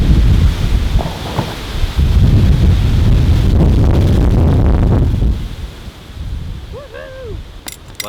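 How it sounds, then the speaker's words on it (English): Strong wind gusts buffet the microphone outdoors with a roaring, rumbling rush that eases toward the end, where a bird chirps faintly. "It's a bit windy."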